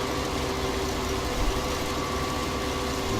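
A tractor engine runs steadily in a crop field of onions, a continuous medium-low drone with a fixed hum, fairly constant in level with no voices.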